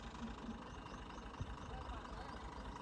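A low tractor engine idles steadily nearby, a constant rumble throughout with a faint knock partway through.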